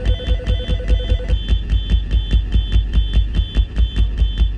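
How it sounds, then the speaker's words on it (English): A fire alarm sounds in a building as a loud electronic beeping tone, pulsing in a fast, steady rhythm for the whole stretch, with no talking. "And silencing the alarm."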